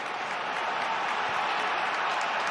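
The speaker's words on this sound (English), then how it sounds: "that just gets the crowd going a little more inside the Stadium of Light" A football crowd roars steadily inside the Stadium of Light during a Premier League match between Sunderland and Brighton & Hove Albion, a dense, sustained wash of cheering and applause with no break.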